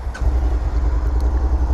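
A KTM 690 single-cylinder motorcycle engine catches and runs right after a brief starter tap, a close, low throbbing rumble lasting under two seconds.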